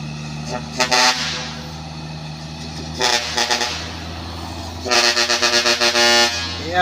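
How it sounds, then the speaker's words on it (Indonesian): Trailer trucks hauling heavy equipment on a winding road, sounding several loud horn blasts in separate bursts over a steady, close diesel engine rumble. "ya, di sana ada truk trailer bosku."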